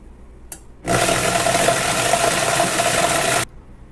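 A blender grinds corn chips in one sustained burst of about two and a half seconds, a loud, dense whir with a steady whining tone that stops abruptly, preceded by a brief click.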